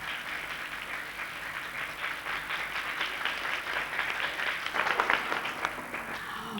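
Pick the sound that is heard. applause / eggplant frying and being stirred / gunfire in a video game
applause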